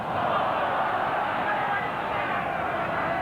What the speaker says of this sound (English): That note from the crowd was that it was just about forward.